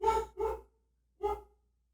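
A pet husky barks three times, two quick barks then a pause and a third, loud and close in a quiet indoor room.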